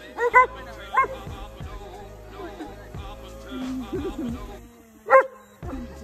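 A dog barks in short loud bursts, two early and one more near the end, with a mix of speech and background noise in between, recorded backstage during a wakeboard seminar.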